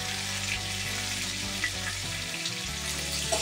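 Rohu fish being sautéed in a pan with salt and turmeric, a steady close sizzle and hiss with faint low clatter underneath, no talking.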